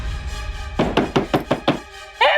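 Six firm knocks on a door in quick, steady succession, loud and close, followed by a short snatch of voice in a Hindi drama scene.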